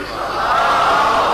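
A large crowd at a Shia religious gathering loudly recites salawat together in a unified roar that swells over a second or so.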